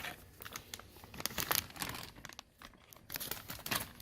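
A new fuel pump for a Mustang is pulled from plastic packaging, producing close, irregular crinkling and rustling bursts of fairly quiet plastic handling.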